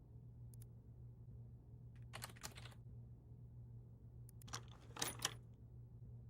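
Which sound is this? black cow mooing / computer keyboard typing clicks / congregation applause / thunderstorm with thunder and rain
computer keyboard typing clicks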